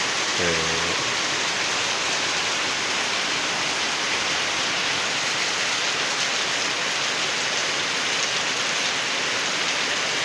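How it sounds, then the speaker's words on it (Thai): Heavy morning rain at a home in Chainat, Thailand, pours down as a steady, dense hiss with no breaks, close and loud throughout. "ฝนตกมหาศาลเลยทุกคน แซะทั้งคืน ถึงตอนเช้าก็ตกหนักเลยอะ"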